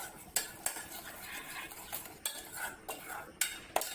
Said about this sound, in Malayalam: ഗ്രേവി ഈ ബാറ്റർ നന്നായിട്ടൊന്ന് മിക്സ് ചെയ്തെടുക്കാം.